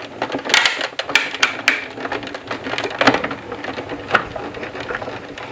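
Die cut machine running during a card-folding craft session, giving a steady close mechanical rattle with rapid ticking clicks and periodic louder knocks, continuous for several seconds with no talk.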